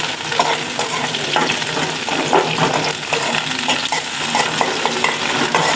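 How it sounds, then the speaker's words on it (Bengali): Garlic frying in a pan for jute leaf greens, a steady close sizzle with frequent clinks and scrapes of a stirring spoon throughout. "রসুনটা ভাজা ভাজা হলে শাকটা দিয়ে ভাজা ভাজা করে নামাম"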